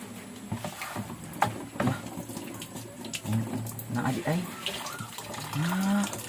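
A tap runs slowly, giving a thin, steady wash of water beneath a person speaking in a noisy indoor setting.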